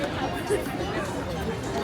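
Crowd murmur drifting through Disneyland's New Orleans Square, a soft steady babble of many distant voices with footsteps, heard beneath a nearby person talking.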